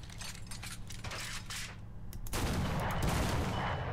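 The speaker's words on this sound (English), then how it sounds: "that first shot was definitely off to the right" The ZUT-37 anti-aircraft gun fires in War Thunder, giving a few loud, distinct cannon shots followed by a sustained rumbling blast, heard close and without talk.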